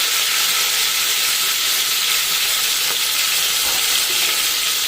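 Green chillies, coriander and curry leaves fry in hot oil for a fish pulusu, a steady, loud, dense sizzle and hiss that runs unbroken and close with no voices over it.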